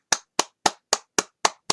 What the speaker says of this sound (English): I give a hand clap to her.